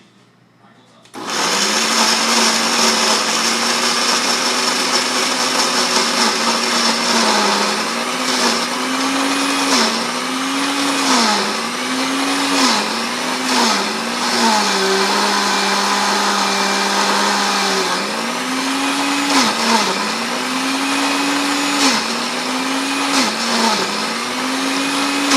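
A blender purees tamale ingredients with a loud, steady whir that starts after a moment of quiet and runs without a break, its pitch dipping and rising as the load shifts.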